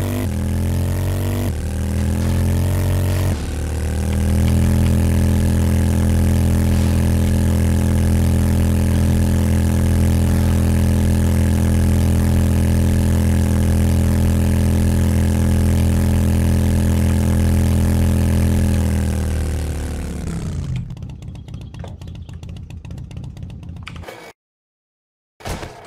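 A motorcycle engine in the survival game 7 Days to Die Alpha 17 drones loudly and steadily, revving up early then holding a constant hum for about twenty seconds before cutting off into near silence.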